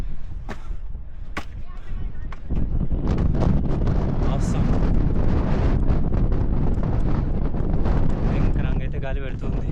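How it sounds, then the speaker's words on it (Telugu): Strong gusting wind buffets the microphone on top of hilltop Bhuvanagiri fort, a loud rumbling roar that swells and stays heavy throughout, with a few brief sharp knocks near the start. "విపరీతమైన గాలి."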